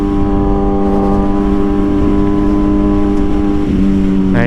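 A Kawasaki ZX6R motorcycle with a quickshifter rides along steadily, its engine a loud, close, sustained drone with strong harmonic tones and a rising pitch sweep at the very end.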